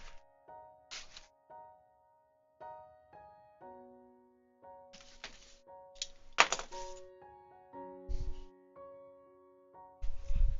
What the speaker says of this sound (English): Let's cut this weird piece of cardboard for this book.